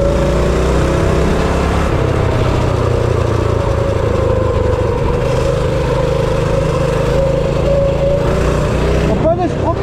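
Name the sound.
Ormiga small car engine running while driving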